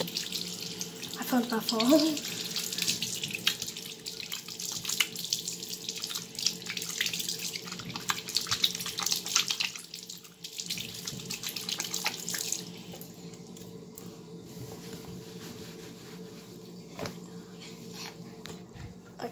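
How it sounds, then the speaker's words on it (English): Bathroom tap running into a sink during handwashing, a steady rushing splash that stops partway through, leaving a quiet room; a person speaks briefly early on and a dog is faintly present. "Make sure to always wash your hands."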